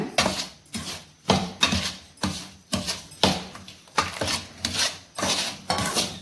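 A spoon scrapes rhythmically around a pan, stirring rava laddu mixture just after hot milk is poured in, with about a dozen evenly spaced rasping strokes, close and fairly loud.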